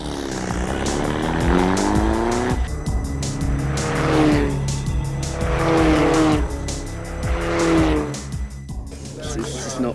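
Formula Ford single-seater race cars howl past during morning practice, engines rising and falling in repeated pass-bys with gear changes, close and loud, with a voice talking over them.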